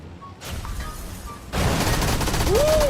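Continuous rattling gunfire in PUBG, a steady barrage that grows louder and denser halfway through, with a rising whistle near the end.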